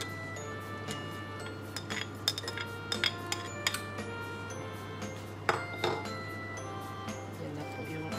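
Laing, taro leaves simmering with chili, being stirred in a cooking pot: light metallic clinks and scrapes of a utensil against the pot come irregularly over a steady low hum, close and moderately loud.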